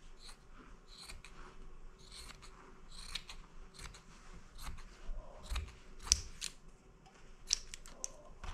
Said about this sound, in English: Good scissors here.